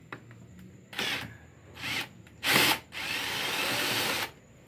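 Power drill fitted with a 105-degree right-angle screwdriver attachment backing a screw out of a scooter, heard as several close, loud whirring bursts of varying length, the last one long and steady, with no talk.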